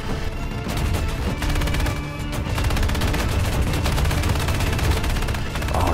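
Aircraft guns firing in the combat game War Thunder, a dense rapid stream of machine-gun shots rattling continuously and loudly with only slight breaks.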